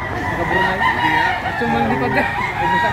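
A flock of chickens at a livestock auction market in Lipa, Batangas, clucks and crows without pause, loud and close, a dense, busy farmyard chorus.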